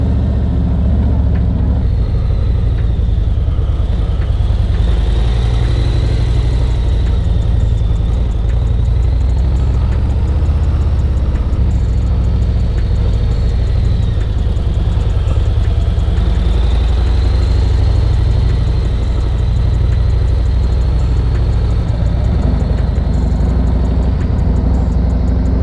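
A 2021 Harley-Davidson CVO Road Glide motorcycle engine runs steadily at a held throttle during safety training, a loud continuous drone alone with no voices.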